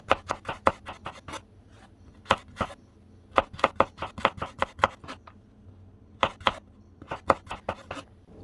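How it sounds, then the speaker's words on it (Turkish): Carrots chopped into small pieces on a cutting board, quick bursts of crisp knife taps in uneven runs with short pauses, close and clear. "Havuçları yuvarlak yuvarlak doğradıktan sonra şöyle küçük olabildiğince küçük olacak şekilde doğruyorum."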